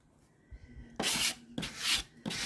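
Dixie Belle Mud Brown wood filler smeared by finger into furniture being refinished, heard as a few close, dry rubbing strokes in bursts with short pauses between.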